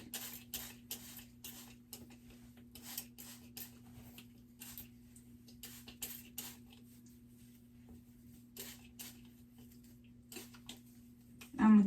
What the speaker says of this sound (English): And I'm just going to spray the back.